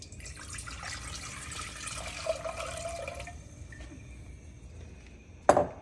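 Water, 3 1/3 cups, poured into a pot on the stove for cooking Puerto Rican garlic rice; a steady, moderately quiet splashing stream that tapers off, then ends with a sharp clink of a pot or utensil.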